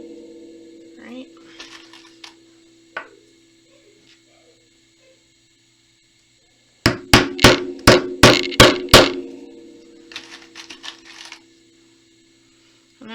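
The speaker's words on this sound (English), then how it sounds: "I'm just using a little tack hammer." A small tack hammer drives nails into a string art board, heard as a quick run of about eight sharp, loud metallic taps close by, with scattered lighter taps before and after.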